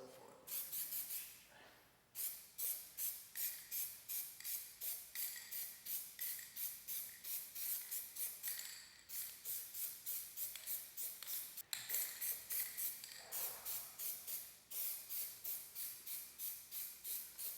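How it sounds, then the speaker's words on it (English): Repeated short hissing bursts of chameleon Plasti Dip spraying from an aerosol can as a fourth coat goes on, steady rhythmic pulses close to the microphone with brief pauses between passes. "So, this is gonna be coat number 4."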